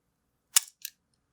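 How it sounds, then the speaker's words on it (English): A Konica IIIA 35mm film rangefinder camera fires its quiet leaf shutter, giving one soft, close click followed by a fainter second click of the advance, with nothing else around it. "It's quiet in its shutter sound."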